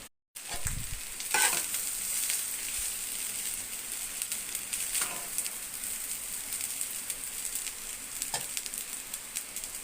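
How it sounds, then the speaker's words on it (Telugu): Cooked rice for chicken fried rice is stirred in a hot pan, a steady close sizzle with repeated scraping and tossing strokes of the spoon, no talking. "ఉడికించి ఉంచుకున్న రైస్ వేసుకుని తిప్పుకుందాం."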